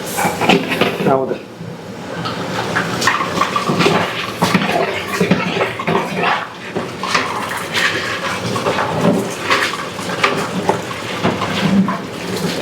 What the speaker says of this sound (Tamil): இதில் வந்து ஒரு 10 லிட்டர் தண்ணி ஊற்றுறோம்.